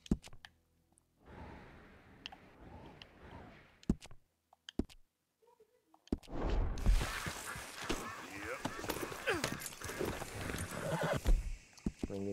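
Horse in the video game Red Dead Redemption 2, with a whinny and clip-clop hooves, quiet at first and then louder with clicks and movement noises, while a person talks.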